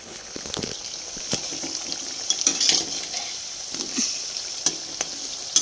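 Soft halved homegrown eggplant slices, battered as beguni, frying in oil, a low steady sizzle with scattered sharp clicks and bubbling pops.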